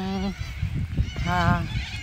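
Geese honk loudly in a few harsh calls outdoors in Australia, with other bird noises mixed in between.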